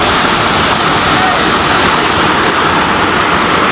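Water rushing from a turbine outlet makes a loud, steady, broadband roar that fills the whole stretch without letting up, close by and with no voices breaking through.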